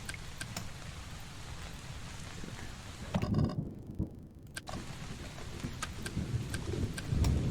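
Steady rain and low thunder rumbles fill a video game scene in Realms of Magic, with scattered raindrop ticks and a brief near-silent dropout midway, while a voice speaks once softly.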